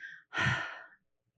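A voice imitates nervous, panting breath: a short intake followed by a longer, breathy exhale, heard alone and fairly quiet.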